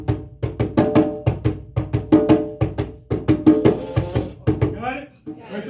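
Hand drum in a drum circle beating a steady repeating pattern of two sharp tone strokes and four deep bass strokes, loud and close, ending with a brief voice.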